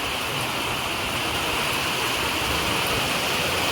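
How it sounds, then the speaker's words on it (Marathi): Heavy rain pours steadily over a village in Dhaulavalli, Rajapur, in Konkan, a dense, even hiss that stays close and loud with no breaks. "पावसान हजेरी लावलं ना"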